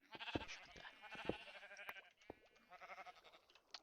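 Sheep in the Minecraft video game bleating repeatedly, several faint quavering calls overlapping in quick succession, quiet and steady.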